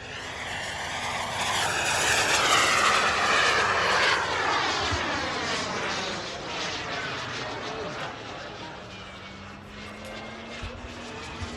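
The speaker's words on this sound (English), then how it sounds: "this one is just exposed on the back end of the airplane, and so you really get to hear that jet sound" An RC jet airplane with an exposed turbine engine flies past at a model airfield, a loud roaring whine that swells as it approaches and fades with a falling Doppler sweep.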